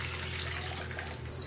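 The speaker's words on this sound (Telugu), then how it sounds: "మగ్గిన తర్వాత ఇందులో నీళ్లు పోసుకుంటున్నాను." Water pours steadily into a pan of lightly cooked onions, a continuous soft splashing rush lasting a second or so, close and moderately quiet with a faint background hum.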